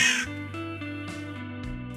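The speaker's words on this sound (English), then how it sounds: "This sound is crow." A crow caws in a few harsh, rough calls, close and loud, with the first call strongest and no other sound.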